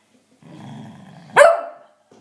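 A single short bark from a nearby dog, preceded by a low grumbling growl and followed by quiet.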